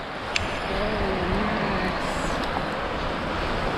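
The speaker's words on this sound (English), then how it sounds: "walk with you closer to the water's edge so you can hear that beautiful sound of the ocean" Ocean surf washes steadily at the water's edge on a shelling beach in South Carolina, a broad continuous rush close to the microphone with some wind and no clear speech over it.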